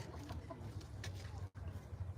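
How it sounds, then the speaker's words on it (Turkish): Soft, intermittent clucking from chickens nearby, mixed with low outdoor background noise and a brief drop to quiet partway through. "Tavuklar var burada."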